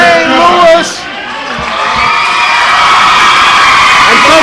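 A crowd cheers, whoops and yells at a high school basketball state quarterfinal game, with loud sustained roaring that fills the whole stretch and a commentator talking over it.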